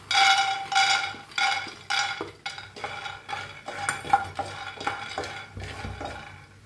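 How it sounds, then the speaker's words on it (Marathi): Peanuts are dry-roasted in a pan and stirred with a utensil, making repeated rattling, scraping strokes in a steady rhythm, loud and close. The strokes grow shorter and more clattery toward the end, with no talk. "आता आपण शेंगदाणे भाजून घेऊया"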